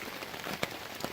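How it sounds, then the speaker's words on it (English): Rain falls steadily on a surface and gear outdoors during an April hike at Mohican, a dense hiss with a few sharper drop impacts, close and moderately loud. "we've definitely got lots of rain"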